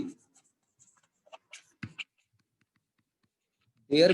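Sparse, faint scratching strokes of writing on a board during a lecture on electron-hole pair generation, with a brief voice starting at the end.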